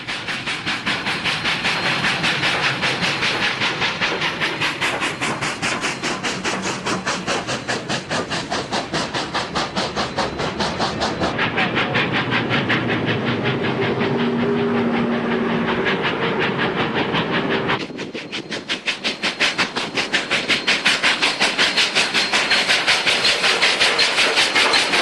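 Union Pacific 844 steam locomotive runs along a Colorado line with a loud, continuous rumble and pulsing chuffs, close and sustained. The sound briefly dips near the end before rising again.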